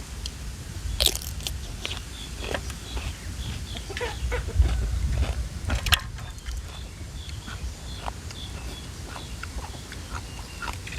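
Grilled snails eaten straight off the grill beside a roadside stall, with a series of close, crisp crunching bites and chewing over a windy outdoor background. Faint chicken clucks come from somewhere nearby.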